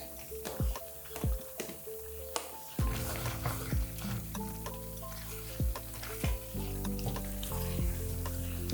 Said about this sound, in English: It was pre-boiled and drained, and I am going to add it in here.